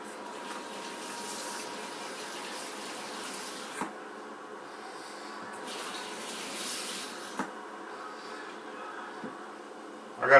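Water is poured steadily into a roasting pan holding a pork loin, giving a soft, continuous trickle and splash with a couple of faint clinks.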